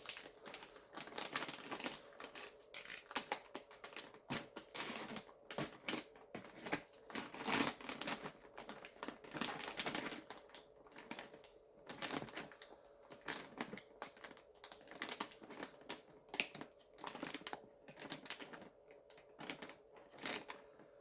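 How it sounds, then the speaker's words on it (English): A plastic zipper bag of gardening material is crinkled and handled, giving irregular bursts of close crackling and rustling that keep stopping and starting, with no speech. "It's a zipper bag, but you can't unzip it."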